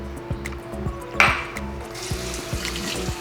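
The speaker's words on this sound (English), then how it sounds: "now I rinse my nuts" Cold tap water splashes and trickles over nuts being rinsed in a kitchen sink, with a steady running-water hiss, soft clicks and a brief louder splash.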